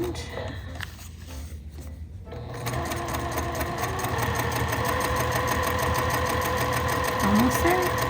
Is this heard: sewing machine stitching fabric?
yes